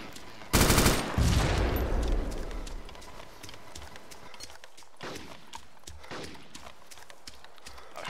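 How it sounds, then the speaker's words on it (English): A loud explosion as a grenade destroys an APC in the zombie survival game DayZ Origins: one sudden heavy blast with a long rumbling tail, followed by scattered gunfire and crackling debris. "I blew up one of their APCs"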